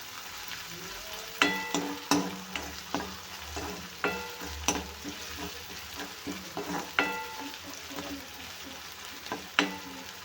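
Onions with ginger and garlic paste sauté in a pan for a dry vegetable dish, a soft continuous sizzle punctuated by repeated clinks and scrapes of a spatula stirring, close and without speech.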